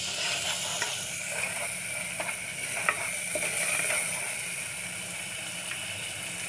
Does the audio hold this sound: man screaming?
no